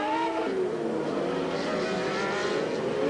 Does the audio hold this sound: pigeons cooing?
no